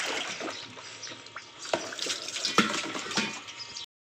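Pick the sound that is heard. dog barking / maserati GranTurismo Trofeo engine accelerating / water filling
water filling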